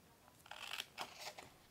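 Scissors snip through paper while cutting out an autumn pop-up card, a few soft crisp cuts and rustles close by, quiet and without talk.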